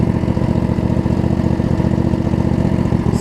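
Craftsman lawn tractor with a Briggs & Stratton V-twin engine idling steadily up close, a dense, even low rumble with a slight miss in the firing and no talk.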